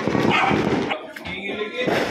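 A family dog yelps and barks during New Year fireworks at home, short nervous barks close by over a dense rumble of distant firecracker bangs and crackle.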